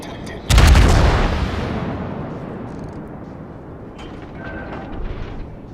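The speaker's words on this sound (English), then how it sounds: "There we go, finally! He decided to shoot at him." A loud booming blast of heavy naval gunfire, 16-inch guns firing from warships in World of Warships, hits hard at once and then decays into a long rumbling tail with smaller distant bangs near the end.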